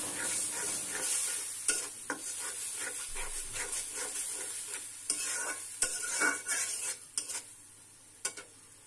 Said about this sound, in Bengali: তো দিয়ে ভালো করে মশলাটা এবার কষিয়ে নিব।